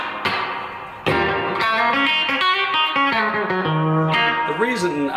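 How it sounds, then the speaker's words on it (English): A distorted electric guitar, played through a Fender Tone Master FR-12 amp and Boss IR-200, plays a chord and then a run of single notes, drenched in long, washy reverb that hangs after each note. "Gets that big reverb on there."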